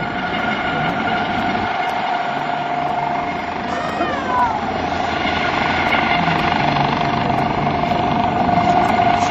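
A US Coast Guard HH-65C Dauphin helicopter hovers at an airshow rescue demonstration, its steady loud rotor and turbine drone filling the air without pause while a voice speaks faintly under the noise.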